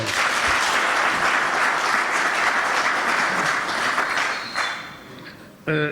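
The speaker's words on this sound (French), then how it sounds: "Est-ce que vous pouvez acclamer pour ce passage?" Applause from a gathered audience of the Central African diaspora in Paris, a loud, dense, steady wash of clapping that holds for several seconds, dips briefly and swells again at the end.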